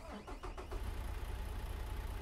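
A truck engine in American Truck Simulator cranks through a few quick turns, catches, and then settles into a steady low idle, heard close and at moderate volume.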